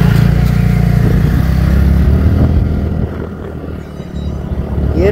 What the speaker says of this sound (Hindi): पीछे बाइक है, हाँ